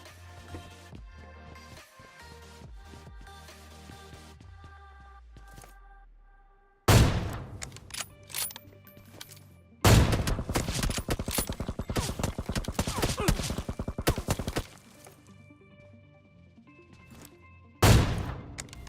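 Gunfire sprays in PUBG Mobile: quieter game ambience, then loud sustained bursts of rapid automatic fire, with a final short burst near the end.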